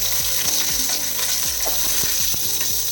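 Fenugreek seeds crackle and sizzle in hot oil in a pan for a Kerala-style fish curry, giving a dense, constant frying hiss with rapid popping clicks, close up and with no talking.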